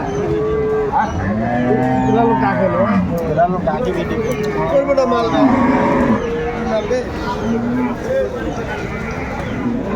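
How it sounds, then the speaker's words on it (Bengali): Cattle moo loudly and repeatedly at a busy livestock market in Aftabganj, Dinajpur, where cows are sold with calves, with long overlapping bellows close by over crowd murmur and chatter. "গাভী বাছুর আমরা দেখছিলাম বেশ সুন্দর"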